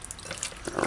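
Garlic rinsed under a running kitchen tap, a brief soft splashing of water that swells louder toward the end.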